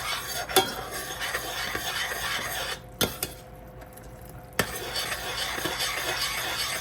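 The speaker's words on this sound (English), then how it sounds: "I'm gonna go ahead and add the cornstarch and mix it in so this can thicken nicely here" Cornstarch is stirred into a simmering lemon chicken sauce, a steady wet scraping and swishing with a few spoon taps against the pan and a brief lull in the middle.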